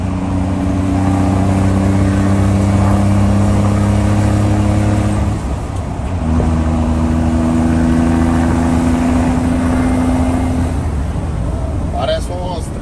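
A loud modified car engine idles roughly and revs, dropping briefly before rising again in a deep, throaty rumble, with a sharp rattle near the end.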